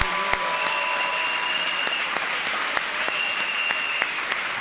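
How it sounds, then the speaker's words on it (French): A congregation at a French-language revival crusade service claps for the Holy Spirit, a dense, loud wash of clapping with a few sharper individual claps standing out and faint tones lingering behind. "Applaudissez pour le Saint-Esprit"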